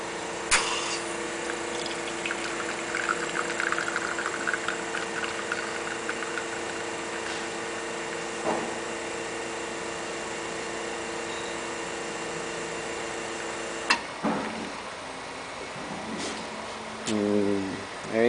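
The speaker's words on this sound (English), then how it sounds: "and then we're going to do a double shot here." A Conti one-group espresso machine on 110-volt power pulls a double shot: a steady pump hum and liquid flow with faint hissing, followed by clicks and a short gurgling spurt near the end.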